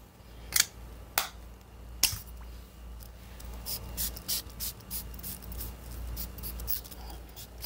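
Several sharp perfume spritzes from a bottle of Paco Rabanne Million Gold for Her eau de parfum, three distinct bursts early on, then a run of lighter hissy puffs and rustles close by.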